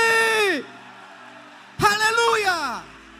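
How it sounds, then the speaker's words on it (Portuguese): A church congregation lets out a loud collective cry of freedom, two sweeping shouted whoops separated by a brief lull, the second swelling and then trailing off. "Só quem é livre nessa noite, libere um grito de liberdade."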